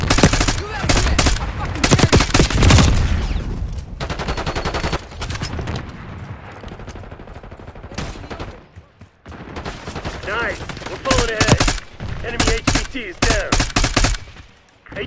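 Dense automatic weapon fire in a Call of Duty: Black Ops 6 multiplayer match on PC, loud overlapping bursts that continue almost without pause, with game voice callouts mixed in.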